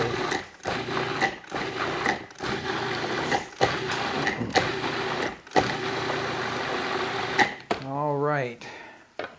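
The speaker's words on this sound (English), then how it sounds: "So easily a food processor will blend these pieces into, I'm going to call it a coarse puree." A food processor purees chopped pieces into a coarse puree for savory shredded beef. The motor whirs steadily in short bursts separated by brief pauses, and a voice briefly comes in near the end.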